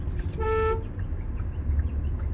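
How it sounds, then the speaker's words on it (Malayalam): A car horn sounds once in a short, clear toot over a low rumble of road traffic, close by. "ഒന്ന് ഹോൺ അടിക്കും"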